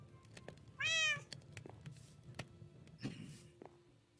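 A Minecraft cat lets out a single clear, rising meow near the start, heard against quiet background clicks and faint room noise.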